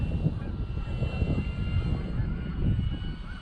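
An orange Dynam Cessna 188 RC model plane with a 1500mm wingspan drones steadily overhead on its maiden flight on a cold, sunny day, the small electric motor's hum faint and continuous against outdoor air noise.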